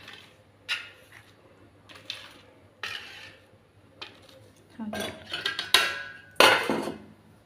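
A potato kachori cut on a plate, a utensil clicking and scraping against it in scattered close taps that grow busier and louder toward the end.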